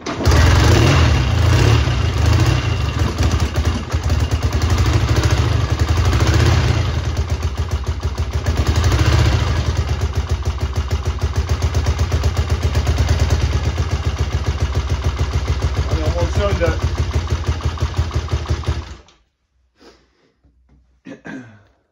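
A Triumph Bonneville T140V Silver Jubilee twin motorcycle engine fires up and idles close by, a steady loud thrumming with a few swells in revs for about nineteen seconds before cutting off into near silence.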